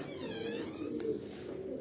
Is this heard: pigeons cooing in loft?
yes